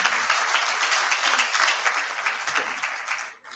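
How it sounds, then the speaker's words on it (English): A summit audience in Morocco gives a loud, sustained round of applause that holds evenly and then tapers off abruptly at the close. "Give them a huge round of applause"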